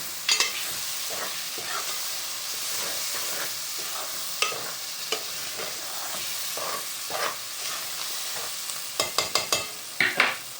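Pomfret fish curry stirred in a frying pan over a steady soft sizzle, with irregular scrapes and clinks of a spoon against the pan, a rapid cluster of knocks toward the end, no speech.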